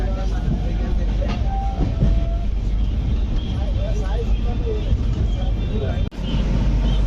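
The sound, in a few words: train running after leaving Tenali Junction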